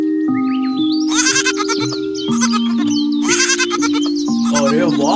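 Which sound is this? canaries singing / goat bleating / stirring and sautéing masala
goat bleating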